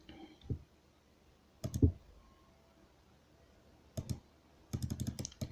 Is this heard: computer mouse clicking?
yes